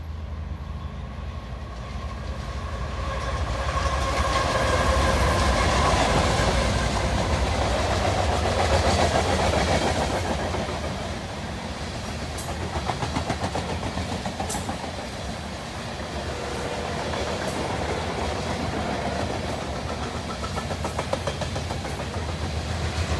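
A southbound freight train rolls past at Raymond, Minnesota, a steady loud rumble of wheels and cars that swells in the first half, then continues at a slightly lower level with faint rail clatter.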